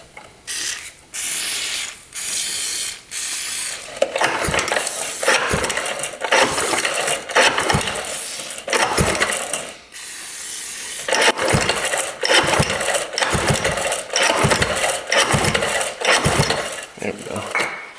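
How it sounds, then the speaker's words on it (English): A 1970s two-stroke mini bike engine is pull-started over and over, each tug a quick rasping rattle of the starter mechanism in irregular bursts, close and loud, with brief gaps between pulls and the engine never catching. "I think the pull start was just a little locked up."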